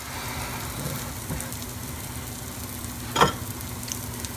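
A fish cake fries in a pan with a soft, steady sizzle, and one clear clattering knock from the flip partway through.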